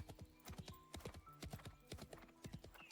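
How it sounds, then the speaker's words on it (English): In a video game, the horse Shadowbind gallops off with its rider, making a quick, quiet, rhythmic run of hoofbeats. "Shadowbind stops his hooves before galloping off with me on his back"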